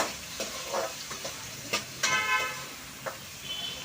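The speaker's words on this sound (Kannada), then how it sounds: "ಒಗ್ಗರಣೆಯಲ್ಲಿ ಸ್ವಲ್ಪ ನಾನು ಫ್ರೈ ಮಾಡ್ಕೊಳ್ತಾ ಇದ್ದೀನಿ" Tomatoes and cashews frying in hot tempering oil for a spinach (palak) dish, a quiet crackle and sizzle broken by a few stirring scrapes and clinks of a spoon against the pan.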